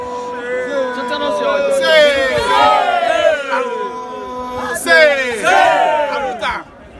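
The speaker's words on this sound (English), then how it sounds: "We got a huge crowd of people here." A large crowd of protesters in Monrovia, Liberia shouts and chants together in loud, overlapping voices, with rising and falling bursts throughout.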